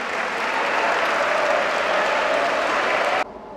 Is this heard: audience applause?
yes